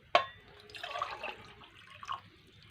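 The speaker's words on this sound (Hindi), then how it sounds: "ये हाफ़ गिलास पानी जाएगा इसमें" Half a glass of water poured into a cooking pot for pulao, a brief close splash and gurgle after an initial knock, fading to a faint trickle.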